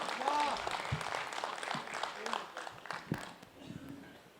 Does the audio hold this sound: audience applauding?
yes